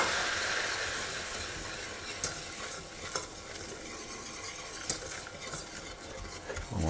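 Butter and flour cooking in a pan for béchamel, making a soft, steady sizzle with occasional scrapes of a utensil stirring.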